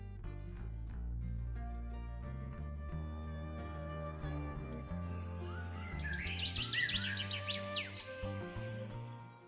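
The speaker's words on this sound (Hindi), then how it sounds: "तभी उन्हें रास्ते में एक सुनहरी चिड़िया दिखाई देती है" A golden bird in an animated Hindi fairy tale chirps in quick twittering bursts over background music, rising partway through and continuing to the end; no one speaks.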